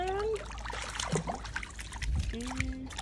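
Water trickles and splashes as someone washes their face, a light dribbling wash that runs throughout while people talk and exclaim over it.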